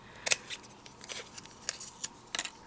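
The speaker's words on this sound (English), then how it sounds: "I'm just going to cut a piece." Scissors snip through a piece of paper while a greeting card is being made, a few short crisp cuts spaced unevenly, close and fairly quiet with no talking.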